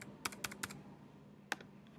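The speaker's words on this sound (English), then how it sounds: "I'm going to type 10 million." A computer keyboard is typed on softly nearby: three quick keystrokes in a row, a pause, then one more tap, all faint against a quiet room hum.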